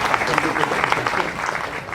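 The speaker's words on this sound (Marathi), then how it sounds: "एकदा जोरदार टाळ्या आपण" Applause from the audience at a Hindu community gathering after a kirtan performance, a dense, loud burst of clapping from many hands lasting the whole moment.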